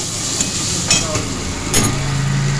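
Spice paste with turmeric powder sizzles and is stirred in a pan for mustard potato curry, a steady frying hiss broken by a few scraping stirs of the spoon.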